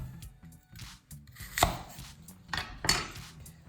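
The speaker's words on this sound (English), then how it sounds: "Then you want to cut it in half." A knife slicing an apple in half on a cutting board, heard as a few close, crisp cuts and thuds against the board, with no talking.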